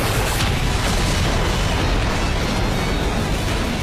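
A cartoon beetle cannon fires in a loud, sustained blast, a dense roaring explosion that fills the whole few seconds without a break.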